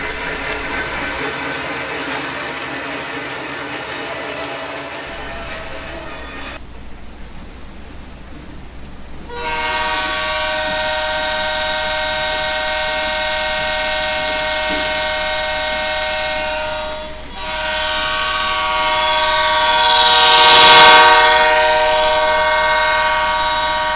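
A Penn Central coal train of hopper cars rumbles past close by, a loud steady roar of rolling cars with a bright horn-like tone sounding throughout.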